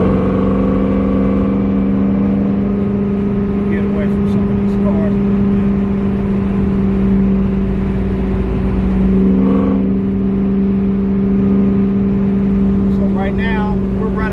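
A custom supercharged Camaro SS on an R-Force and GT chassis pulls onto the highway, its loud, steady engine drone and road roar heard from inside the cabin for the whole stretch, with a voice talking over it.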